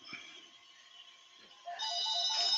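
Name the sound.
telephone ringing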